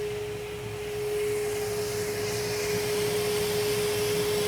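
A small grinding wheel runs with a steady high hum and a soft grinding hiss while putting faceted bevels on the handle of a Damascus integral knife.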